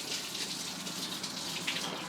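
Steady running tap water pours over a plant's roots to wash away soil and vermiculite, a faint, even splashing hiss with no voices.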